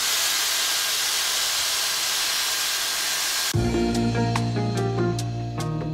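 A Dyson Airstrait hair dryer runs on its wet-to-dry setting, giving a loud, steady airflow roar that abruptly drops to a quieter whirring hum with faint tonal whine and a few clicks.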